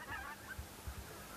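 Greater white-fronted geese honking over a hunting ground at Rosokastro, Burgas, Bulgaria, with a few short, moderately distant calls in quick succession.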